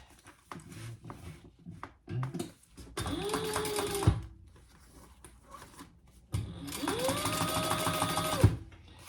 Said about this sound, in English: I'm going to fold that seam allowance up towards B and top stitch on B.